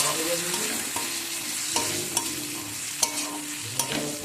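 Green peas with turmeric and spices stir-fried in a hot pan, giving a loud, steady sizzle broken by repeated scraping strokes of a spatula against the pan, with no voices.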